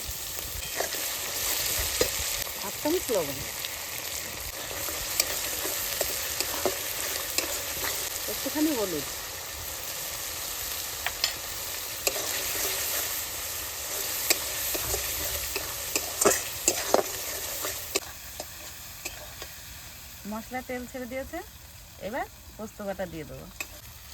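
Poppy seed paste with onion, tomato and chilli paste fries in a pan under constant sizzling, with repeated scraping strokes of a spatula and occasional knocks, close and continuous.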